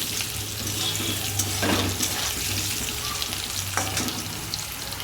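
Okra and potatoes fry in a pan for a home-style bhindi aloo sabji, giving a steady close sizzle with light stirring scrapes and soft watery crackle throughout.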